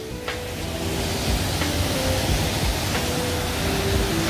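Jaein Waterfall in a canyon below columnar basalt cliffs sends up a steady, broad rush of falling water, heard from close above as a constant roar with no voices.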